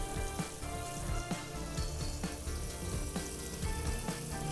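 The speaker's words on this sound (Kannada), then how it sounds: "ಈಗ ಇದಕ್ಕೆ ನಾನು 2 ಈರುಳ್ಳಿನ ಹಚ್ಚಿಟ್ಕೊಂಡಿದ್ದೀನಿ, ಅದನ್ನು ಹಾಕೋತಾ ಇದ್ದೀನಿ" Chopped onions frying in a pan of oil for masala upma, a steady crackling sizzle with scattered pops and light stirring knocks, close and continuous without any talk.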